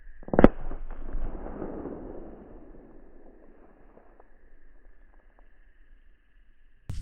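A single sharp gunshot blast from a rifle or air gun hitting a can at a hunting camp rings out near the start and fades into a long echoing decay, followed by quiet with a faint hum and another crack at the very end.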